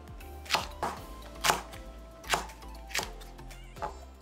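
A knife chops six shishito peppers coarsely on a cutting board, five or six sharp, evenly spaced thuds, close and clear with no talking.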